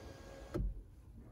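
A Subaru Outback's electric sunroof opens with a faint motor hum, then a short, soft clunk as it releases, heard quietly and close inside the car.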